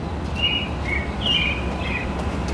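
Birds chirp outdoors at a school event, a handful of short, bright calls repeating over a steady low rumble of background noise.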